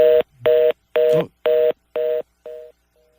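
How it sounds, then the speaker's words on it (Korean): A telephone line drops during a live Korean broadcast call, giving a run of six evenly spaced, loud electronic call tones about half a second apart, the last one fainter and clipped short. "전화가 끊겼습니다. 다시 연결해 보도록 하겠습니다."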